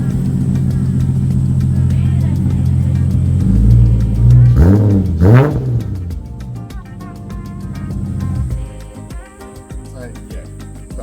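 A Holden VX Commodore engine idles with a deep, steady rumble, then takes two quick throttle blips that rise and fall sharply before dropping back to a quieter idle, heard close up.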